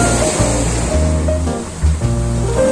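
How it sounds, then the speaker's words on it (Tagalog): A man-made waterfall at a Khor Fakkan amphitheatre and beach roars loud and steady, a continuous rushing wash of falling water close by. "Ayan po yung waterfalls"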